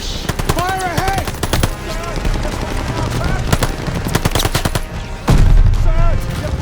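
Rapid bursts of automatic gunfire and single shots crack through a Call of Duty: Vanguard battle, loud and close, with shouted voices and battlefield clamor mixed in.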